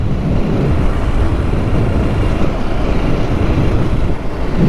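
A motorbike climbs uphill through sand with its rider standing on the foot pegs, a loud, steady low engine drone mixed with wind buffeting that runs unbroken throughout.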